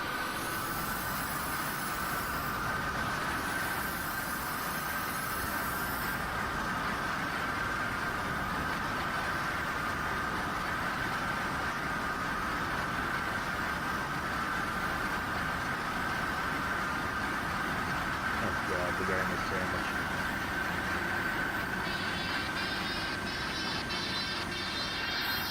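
A simulated train in the OpenBVE train simulator game runs along the tracks at high speed, a steady, continuous mechanical rumble with a sustained whine, unbroken and without speech throughout.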